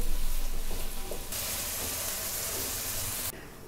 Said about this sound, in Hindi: ऑयल हमारा गर्म हो गया, अब मैं इसमें प्याज डालूँगी।